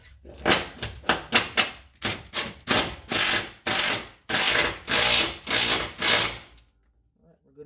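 Impact wrench tightening a nut on a truck's suspension frame during a Roadactive suspension install, loud rapid bursts of hammering rattle in a steady on-off rhythm, then stopping.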